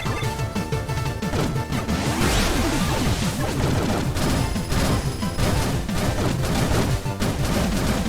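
Boss in Blaster Master Zero 2 firing wide spreads of bullets, a dense, continuous barrage of crashing, booming shots and impacts layered over game music, loud and sustained throughout.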